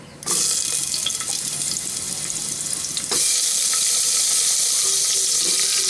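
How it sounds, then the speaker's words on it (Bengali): Potatoes frying in oil flavored with asafoetida make a bright, hissing sizzle that jumps louder a few seconds in, steady and close, with no talking. "আলুগুলোকে তেলের মধ্যে একটু ভেজে নেব"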